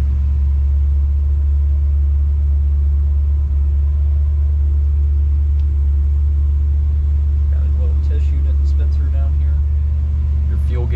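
A 1957 Chevrolet Bel-Air convertible engine runs at a steady, loud, deep idle, its low rumble continuous throughout with faint handling noises near the end.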